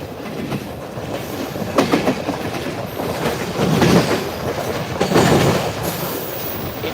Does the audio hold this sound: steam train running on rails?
yes